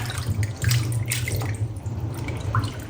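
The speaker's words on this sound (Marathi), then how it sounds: "सिंकमध्ये प्रॉपरली वॉश होतील ते थोडंसं अजून पाणी करणार मी" Water running into a kitchen sink to wash vegetables, a steady soft splashing and dripping over a low hum, moderately quiet with no talking.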